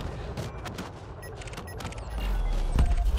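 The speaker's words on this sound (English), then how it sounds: "One huge beam laser took that eagle out." Beam lasers fire during a dogfight with an Eagle ship in the space game Elite Dangerous, giving rapid crackling bursts that swell into a heavier rumbling blast near the end.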